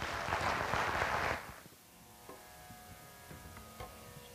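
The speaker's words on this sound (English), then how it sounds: "Big round of applause." Audience applause welcoming a tabla player at a concert: a dense burst of clapping for over a second that cuts off abruptly, leaving a quiet hall with faint scattered knocks.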